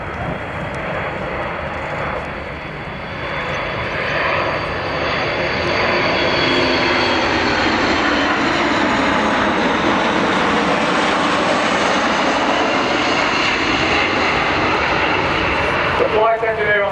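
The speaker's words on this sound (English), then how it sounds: "Tim will be increasing the power and asking the engineer or the co-pilot to drop the undercarriage" A large E-3 Sentry aircraft passes at an airshow with its engines roaring, a loud, broad, sustained drone that swells and stays strong throughout, under a commentator's voice.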